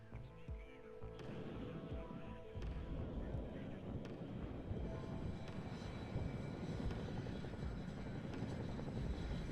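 Military helicopters in the WARNO strategy game fly back after dropping troops, giving a continuous engine and rotor drone that swells a little partway through, with battle sounds and a voice mixed underneath.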